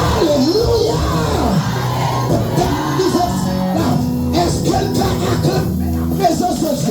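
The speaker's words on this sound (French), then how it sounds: "Acclamez la présence de Dieu." A prayer-evening congregation shouting and cheering acclamations to God, loud overlapping voices and whoops from a crowd, sustained throughout with a leading voice rising above it.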